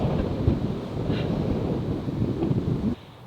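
Wind gusts across an open golf course at Huddersfield Golf Club, a steady loud rumbling buffet on the microphone that drops away abruptly near the end.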